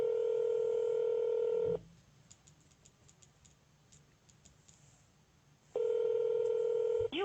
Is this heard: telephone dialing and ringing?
yes